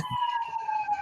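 A steady wailing siren holds a high tone throughout, moderately loud and continuous, with faint low rumbling beneath.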